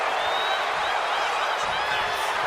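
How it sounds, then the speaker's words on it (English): A wrestling arena crowd reacts to Dragunov with a loud, steady wash of cheering and noise that holds evenly throughout, with no single standout shout. "Dragunov drawing a big reaction from the crowd"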